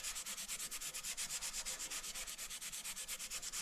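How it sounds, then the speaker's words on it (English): A wooden table top is sanded by hand in steady, rapid back-and-forth strokes, a close, even scratchy rasp repeating without pause and with no voices. "So I'm sanding this,"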